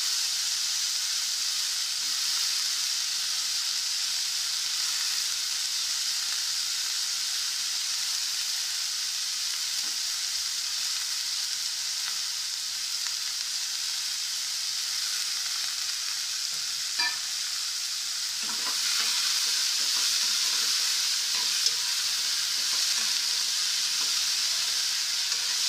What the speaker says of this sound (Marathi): आता मी गवारी घालते. तेलात छान परतून घेते गवारी.